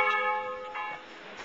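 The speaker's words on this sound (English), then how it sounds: "I can come back in 10 minutes and still be chiming." Bells of the town clock in Rothenburg ob der Tauber chime with a sustained, ringing metallic tone that slowly fades, with a fresh strike near the start and no talk.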